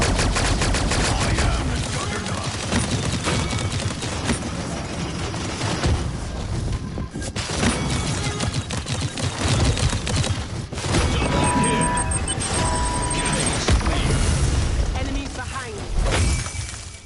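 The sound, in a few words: gunshots in a video game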